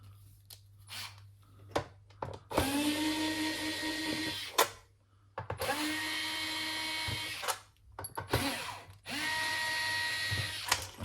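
A T10 Torx driver unscrews screws on an Xbox One S console, heard as repeated close mechanical whirring runs of a few seconds each, separated by short clicks and pauses.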